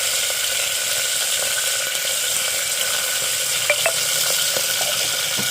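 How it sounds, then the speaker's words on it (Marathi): Sprouted beans and cumin seeds fry in hot oil for a home-cooked Puneri misal, giving a steady, close sizzle and crackle throughout with a few small pops and no voices. "तेल तापत ठेवलेला त्याच्यात टाकूया मोडी आणि त्याच्यात टाकूया जिरा"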